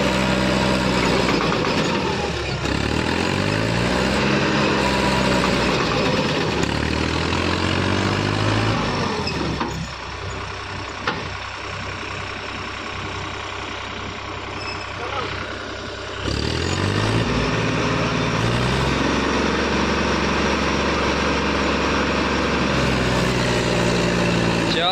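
A Mahindra 295 tractor engine labours steadily while pushing a loaded trolley, a continuous close diesel drone with harmonic rises and falls as the revs change, briefly easing and then surging again.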